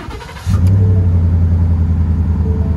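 A 2017 Ford F-150 pickup's 5.0L V8 fires up and settles into a deep, steady exhaust rumble at idle, loud and close, after a brief quieter moment.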